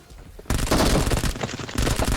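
Rapid automatic fire from a Vector gun in PUBG, a dense, loud burst of close shots that starts abruptly, rattles on steadily for well over a second, pauses briefly and resumes.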